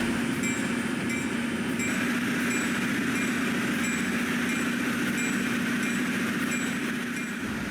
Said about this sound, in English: The train pulls to a stop at the Eport station